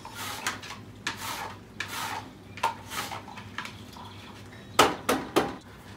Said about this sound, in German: Wichtig dabei ist, dass der Zwiebel wirklich schön fein gehackt wird.